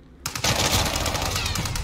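Rapid automatic gunfire from a Call of Duty Warzone match erupts after a brief quiet start, a dense, loud burst of repeated shots sustained to the end.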